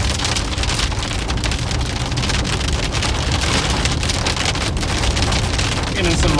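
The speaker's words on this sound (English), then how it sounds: "Getting some rain here." Heavy rain pours during a night storm chase in Oklahoma, a loud steady hiss of drops drumming on a vehicle throughout, with no break.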